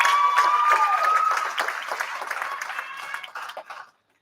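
Audience applause and cheering at a Christmas fiddle concert for an elderly fiddle player, loud and dense at first, then tapering over several seconds before cutting off; a sustained whistle or tone rises briefly near the start.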